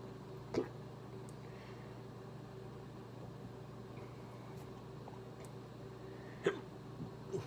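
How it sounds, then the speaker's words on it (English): A man hiccups after eating Last Dab hot sauce: two short, sharp hiccups, roughly six seconds apart, with a weaker third following, all over a steady low hum of room noise. "Now I got hiccups."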